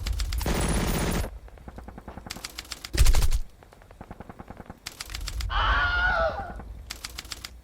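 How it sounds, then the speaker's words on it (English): Staged machine gun fire from a German transport in a tabletop wargame battle: several sharp bursts of rapid automatic shots separated by short gaps, with a single heavy crack partway through and a whooshing rumble late on. "The German transport, too, makes a beeline toward the battlefield. Appearing from out of the fog of war, it opens fire at the paras."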